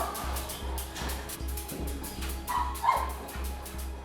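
Rescued former stray dogs bark and yip a few times at close range in Dublin, Georgia, short sharp calls set against a pulsing low background.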